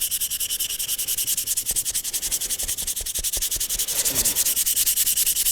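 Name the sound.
sanding a handmade lure with sandpaper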